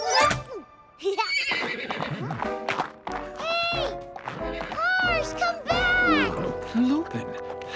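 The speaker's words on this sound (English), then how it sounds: "This horse is fast as lightning." Cartoon horse neighing and whinnying in a fairy-tale scene for kids, several loud, close, wavering calls mixed with quick hoof sounds and bits of character voices.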